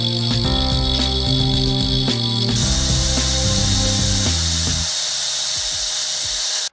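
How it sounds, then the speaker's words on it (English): A DeWALT DWE4257 angle grinder runs steadily at its lowest speed setting, a loud continuous tonal whine that holds for several seconds before cutting off near the end. "first let's try to measure the rotational speed at the lowest setting"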